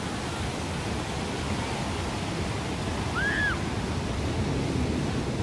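Ocean waves at Venice Beach, a continuous wash of surf hissing and rumbling close by, with a brief whistle-like chirp partway through and no voices.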